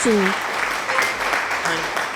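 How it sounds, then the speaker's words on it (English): An applause sound effect plays on a live stream, a steady wash of clapping over about two seconds with a faint tone at the start. "Thank you for the applause."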